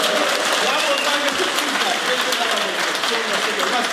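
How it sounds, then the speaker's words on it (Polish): Steady, dense applause from a stand-up comedy audience fills the room, loud and unbroken throughout, with a voice faintly underneath. "Dajcie mu brawa, super gościu."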